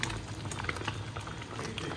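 Jaggery cooks down with mango pickle in a pan, bubbling and popping with a steady, soft simmer and tiny crackling bursts throughout.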